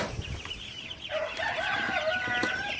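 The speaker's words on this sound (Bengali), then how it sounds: "আমার সোনালি সুপার হাইব্রিড মুরগিগুলা আলহামদুলিল্লাহ খুবই ভালো আছে এবং সুস্থ আছে" Sonali super hybrid chickens on a farm cluck and call steadily, a flock's overlapping bright chatter rising and continuing close by, with one sharper cry standing out near the end.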